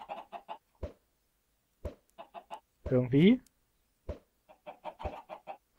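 Chickens in a Minecraft FTB modpack world give short, close clucks in quick repeated bursts, with one longer squawking call in the middle and a single word spoken.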